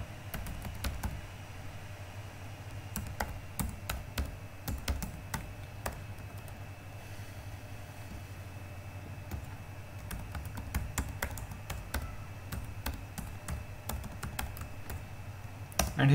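Rapid clicking keystrokes on a computer keyboard as an email and password are entered, bursts of typing with short pauses, close and fairly quiet, no voices.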